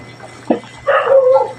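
A dog gives a short yip and then a longer bark close by, over a low steady hum.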